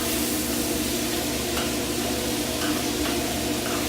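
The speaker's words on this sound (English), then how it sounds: "Want to stir that around, Brian?" Pasta is stirred in a pot while cooking, a steady close hiss and bubbling wash with faint scraping of the spoon, continuous and even throughout, no talking.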